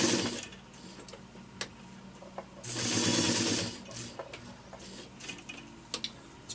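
A White model 162 sewing machine stitches through thick material, a fast mechanical ticking whir that swells into a loud burst of running in the middle, with quieter clicks and pauses around it.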